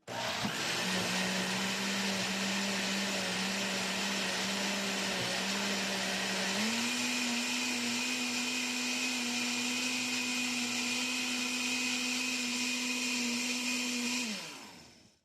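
A kitchen blender on its smoothie setting whirs steadily as it blends oats into homemade oat milk, holding a loud constant motor drone that steps up in pitch midway before spinning down and stopping.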